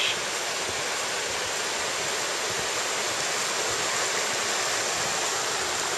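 A river swollen by heavy rain rushes past Kawakami Bridge in Oze, a steady, loud, dense roar of churning water that continues unbroken without any voices.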